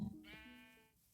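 A single sheep bleats in a video game, one close, clear, drawn-out cry lasting about a second, with no other sounds.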